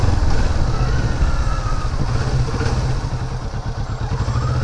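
Kawasaki Vulcan S 650 motorcycle riding through a neighborhood, its engine a loud, steady close drone with a rumbling low end and road noise throughout.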